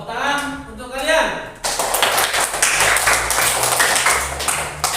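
Children in a classroom break into clapping after a short burst of talk, the claps loud and close, a dense, uneven patter that continues to the end.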